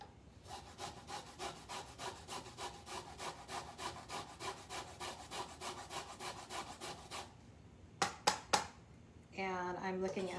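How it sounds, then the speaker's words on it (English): A carrot is rubbed back and forth over a microplane grater in a kitchen, giving a close, regular rasping stroke repeated about twenty times, followed by a few sharp taps and a brief voice at the end. "Keep an eye on your fingers as they get closer to the teeth of the grater."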